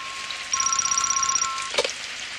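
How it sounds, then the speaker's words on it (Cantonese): A telephone in a cartoon household rings once in a bright electronic trill that lasts about a second, then a short click sounds as it cuts off, with a steady hiss of rain behind it. "你頭先未話最先聽到電話響嘅人去聽嘅，今次輪到大雄你啦。"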